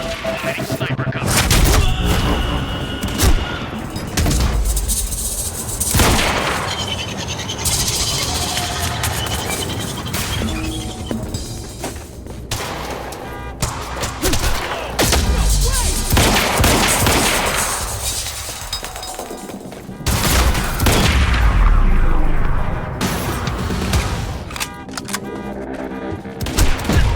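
Sniper fire and other gunfire ring out in a combat scene from the video game Quantum Break, with repeated loud shots, booms and crashes packed densely over the whole stretch.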